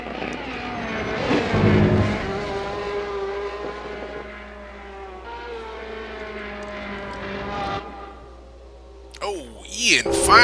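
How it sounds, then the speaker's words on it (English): The all-yellow number 66 Ferrari 458 race car circuits Monza, its engine droning with rising and falling harmonics as it passes, over steady crowd and track noise with a sharper burst near the end; a commentator talks throughout. "Brad Maris driving the all too happy, all yellow number 66 Ferrari"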